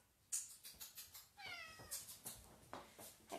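A cat meows indoors in a house: one drawn-out, clearly pitched meow stands out amid a run of shorter, fainter mews and small rustling sounds, close by, with no talking.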